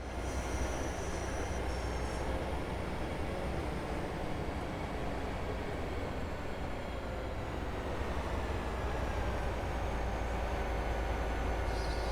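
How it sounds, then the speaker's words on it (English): A Great Western Railway class 802 train brakes into Torquay station on the Riviera line in Train Sim World 6, with a constant loud rumble of wheels and faint high squeals on the rails. "We are approaching Torquay now. Use full brake to."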